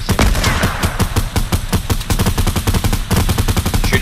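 Loud, rapid bursts of automatic gunfire in a shooter video game, rattling in dense rhythmic volleys that run almost continuously with brief gaps and no talking.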